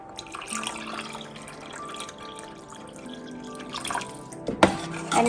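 Water poured into a pot of sambar with mango, sambar powder and cooked dal, a steady moderate splashing pour with a louder burst of splashes near the end.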